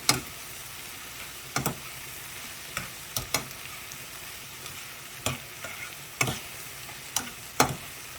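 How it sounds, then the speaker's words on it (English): Pimento seeds stirred into a frying pan for Jamaican-style red snapper: scattered scrapes and taps of a utensil against the pan over a faint, steady low sizzle, with no talking. "I'm gonna stir it in"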